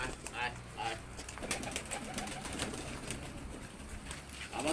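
A large flock of pigeons, about 150 birds, coos softly in the background with some faint wing flaps, while people talk nearby.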